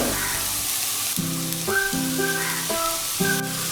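Ground chicken meets hot oil in a pan for Pondicherry-style chicken balls, giving a steady, loud, close sizzle and frying hiss with no voices.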